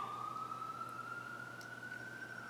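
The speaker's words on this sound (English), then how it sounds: "Those sirens are kind of annoying." A single emergency siren wails outside at a distance, one long steady tone sliding slowly up and down in pitch, moderately faint over a low background hum, with no talking.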